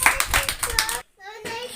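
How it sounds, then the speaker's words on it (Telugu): Children clap loudly together at a church gathering, a dense burst of hand claps for about a second, a short silent gap, then clapping picks up again. "వెరీ గుడ్ గట్టి క్లాప్స్"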